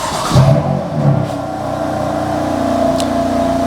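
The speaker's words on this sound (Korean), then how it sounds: "일단 시동부터 한번 걸어 볼게요." A BMW M4 with a coolant-loss problem starts up with a short cranking burst and quick rev that settles into a steady, close idle drone.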